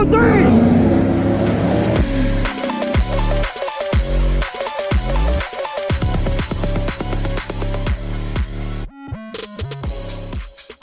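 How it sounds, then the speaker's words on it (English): A Volkswagen Mk7 GTI with stock exhaust revs hard, engine note rising and dropping through several sharp throttle blips, loud and close. "now that you've heard the stock sound of the GTI"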